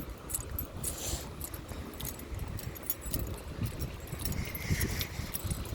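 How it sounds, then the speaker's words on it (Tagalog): A set of keys jangles in a pocket with each step while walking through a quiet town centre in Oberhausen, a faint rhythmic metallic clinking over low outdoor street ambience. "Ang ingay ng susi ko."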